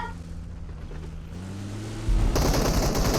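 Sustained automatic gunfire in the PUBG Mobile battle royale shooter, a dense continuous rattle of rapid shots that grows louder and harsher partway through, with no talk over it.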